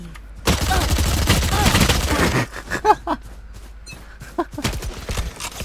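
Gunfire in a video game sounds as shots are aimed at enemies' heads. A dense, loud burst of rapid shots gives way to scattered single shots and impacts, with brief game sounds in between.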